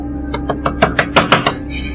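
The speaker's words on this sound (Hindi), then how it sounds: "दरवाजा खोलो जैद" Someone knocks on a door in a rapid run of about eight sharp raps, close and loud, with the last few knocks striking hardest before it falls quiet.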